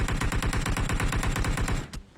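Automatic gunfire in the video game PUBG Mobile, a rapid, evenly spaced burst of loud shots lasting nearly two seconds before stopping abruptly.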